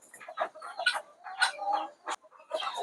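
Backyard hens cluck and chatter close by in short, repeated bursts, several birds overlapping with brief pauses and no talking.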